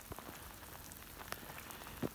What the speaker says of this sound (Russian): Сейчас идет дождь.